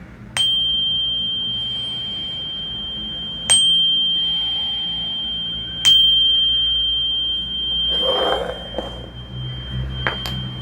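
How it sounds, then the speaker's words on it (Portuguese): A small bell is struck three times at a slow, even pace, each bright ding ringing out and fading, followed by softer rattling and a final quick ring. "E vou começar aqui, tá? Tocar aqui o sininho."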